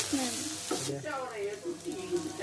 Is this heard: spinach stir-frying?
yes